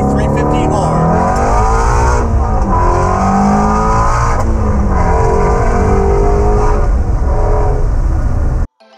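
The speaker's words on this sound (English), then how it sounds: "I'm sitting inside my 2018 GT350R Mustang, and as you can tell, it's very loud" A loud, close 2018 Ford Mustang GT350R V8 engine, heard from inside the car, rumbles and revs repeatedly, pitch rising and falling with each throttle blip, cutting off abruptly at the end.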